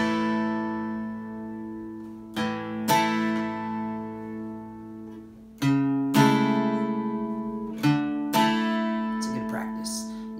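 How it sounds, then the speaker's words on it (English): An acoustic guitar intro: a single pluck on the low sixth string, then a downward strum across all strings, repeated in a few passes of plucks and ringing strums, close and clear with no voice over it. "a pluck on the low string"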